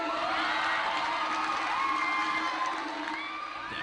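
Audience at a televised talent show screaming and cheering nervously at an acrobat group's stunts, a dense, continuous wash of high-pitched shrieks and crowd noise that fades slightly at the end.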